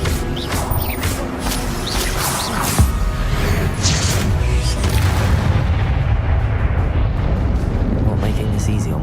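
Spell-casting burst from Hogwarts Legacy, a booming magical blast with crashing impacts layered over dense game combat noise and music, loud and continuous throughout.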